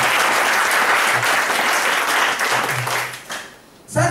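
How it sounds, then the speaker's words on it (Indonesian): An audience at a financial advisors' gathering gives a leader a round of clapping. The applause is brisk and continuous, thins out near the end, then swells briefly again. "tepuk tangan dong buat leader akan masalah."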